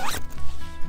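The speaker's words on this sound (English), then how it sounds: "go ahead and zip it up." A single quick zipper pull on a large dry-bag motorcycle duffel, close and crisp, lasting under a second with no talking.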